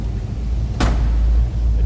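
A single short thud as the door of a 1966 Ford Mustang coupe shuts, close and solid, set against a steady low engine rumble.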